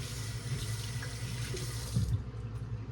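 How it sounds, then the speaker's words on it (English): Hands are washed under a running tap, a steady close rush of water splashing into a sink that stops abruptly near the end. "Let me wash my hands."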